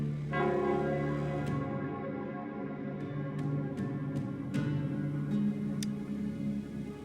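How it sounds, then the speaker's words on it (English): The bell of Nell Square in a video game tolls with a sustained, resonant hum, with a few bright chime strikes at intervals over a steady ambient backdrop. "It's the Nell Squares bell."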